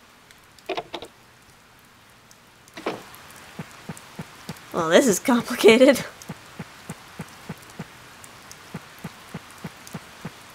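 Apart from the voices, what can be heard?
rain falling in Harvest Moon: Save the Homeland video game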